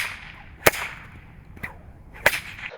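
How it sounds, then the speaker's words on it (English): A golf swing whip training aid snaps with a sharp magnetic click, three crisp clicks spaced through the clip, the first and last loudest, over faint room noise. "this thing has a magnet which will sling down and make a clicking noise when it hits here"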